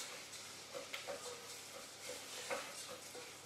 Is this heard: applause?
no